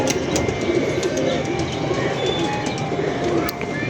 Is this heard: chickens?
no